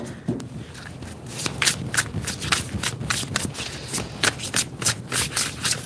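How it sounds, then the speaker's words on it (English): Tarot cards being shuffled by hand, a steady run of crisp riffling and sliding slaps close up, with no talking. "Let me shuffle this some more."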